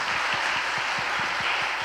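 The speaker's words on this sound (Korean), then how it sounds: "박수하겠습니다." Congregation at a Friday church service applauding after a prayer, a steady wash of many clapping hands with a regular rhythmic beat beneath, continuous and fairly loud.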